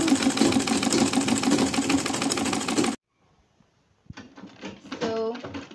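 A sewing machine runs loud and steady for about three seconds while hemming an A-line top, then stops; after a pause it starts again with shorter bursts and a brief voice in the mix.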